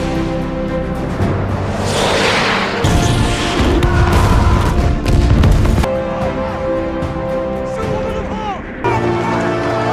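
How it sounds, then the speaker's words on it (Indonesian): Artillery shells explode on a command base in a war depiction, with heavy booms and crashing blasts in bursts, louder bursts in the middle, over a dense rumbling background. "peluru-peluru artileri meluncur dengan indah menghancurkan markas komando Amerika hingga tak tersisa."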